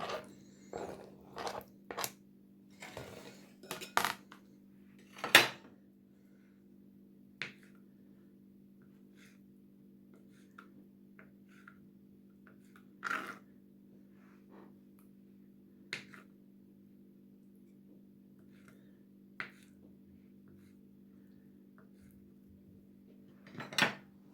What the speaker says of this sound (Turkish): uygun bir kabıma koyuyorum arkadaşlar. Karıştıracağım kabıma hepsini.